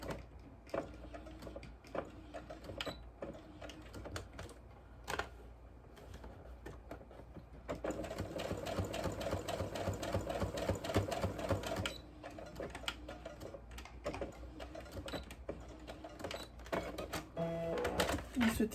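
Sewing machine topstitching the edge of a fabric scrunchie, a steady close mechanical needle rattle that runs in bursts and then continuously, with brief pauses and a voice talking at times.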